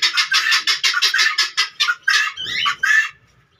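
Caged pet hens cluck noisily in the evening, a loud, close run of rapid rhythmic clucks and squawks repeating for several seconds before stopping.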